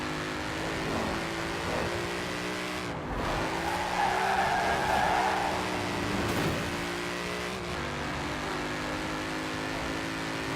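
Rear-wheel-drive car in Forza Horizon 4 accelerating hard with wheel spin, a loud sustained engine drone mixed with tyre squeal that swells midway and carries on steadily throughout, with no talking.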